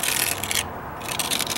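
Putty knife scraping a Dryvit stucco patch: close, gritty rasping strokes with a short quieter gap in the middle.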